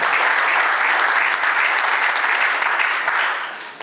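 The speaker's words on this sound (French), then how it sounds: "Je vous remercie et on peut donc applaudir." Guests at a civil wedding ceremony break into dense, sustained applause, a full and even wash of clapping that holds for a few seconds before tapering off.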